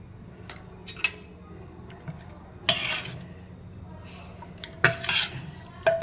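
A spoon clinks and scrapes against a bowl while flour batter is stirred smooth, with light, irregular taps and a few louder knocks over a low background hum.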